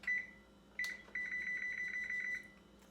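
An electronic timer beeps in a rapid repeated pattern of high, thin tones, with a short chirp at the start and a longer string of beeps after.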